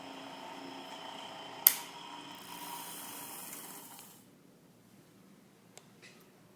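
An electric motor spins a pulley unbalanced by an added counterweight on a vibration transmitter test rig, giving a faint steady whirring hum with a sharp knock partway through, then quieting to near silence.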